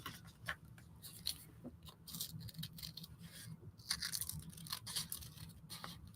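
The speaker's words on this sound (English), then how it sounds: "Scissors, small scissors." Small scissors cutting paper cut-outs for a collage, a run of crisp snips and rustling paper handling, close and fairly quiet, with no talk.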